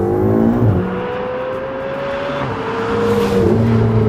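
Turbocharged V8 of a Ferrari 488 GTB accelerating hard, a loud, close, sustained engine roar with rising pitch and a brief gear-change dip, no talk over it.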